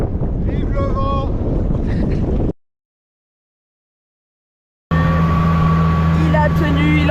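Strong wind roars into the microphone during a foil surfing session on open water, a heavy buffeting rush broken by a stretch of total silence, with voices and a steady hum in the second half.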